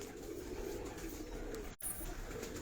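Pigeons coo in a soft, low, continuous murmur, faint and steady, with a brief dropout partway through and no voices.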